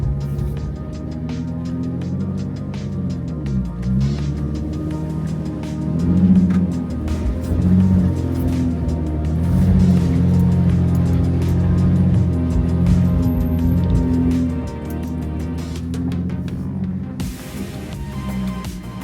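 Porsche Cayenne SUV engine droning steadily as it powers off-road at an off-highway vehicle park on all-season tyres, a loud, sustained low rumble that swells and eases over about nineteen seconds with no talk.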